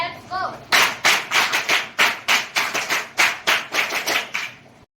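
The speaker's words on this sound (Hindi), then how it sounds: "एक बार और सम्मान ताली के साथ" A crowd applauds in honour at a school gathering in Kharora, Chhattisgarh: dense, loud, rhythmic clapping swells in repeated bursts for several seconds, after a brief voice at the start.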